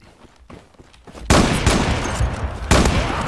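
Gunfire in the online shooter Zula: faint shots early on, then a sudden loud volley of rapid shots that breaks off briefly before a second close burst resumes.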